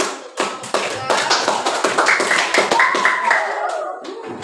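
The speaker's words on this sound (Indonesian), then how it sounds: "Beri tepuk tangan untuk kelompok" Classroom applause rings out for a group of students, with dense, close hand clapping that holds steady for several seconds while voices carry over it.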